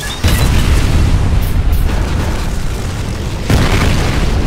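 A grenade goes off in a video game with a loud, heavy boom and a sustained rumbling blast that fills the whole moment, swelling again briefly near the end.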